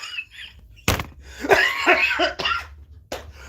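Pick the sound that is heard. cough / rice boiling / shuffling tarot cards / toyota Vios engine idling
cough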